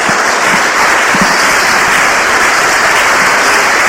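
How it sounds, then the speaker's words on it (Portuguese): A church congregation breaks into loud, sustained applause, a dense wash of clapping hands that fills the room evenly from start to finish with no voices above it. "Dê uma salva de palmas a Jesus."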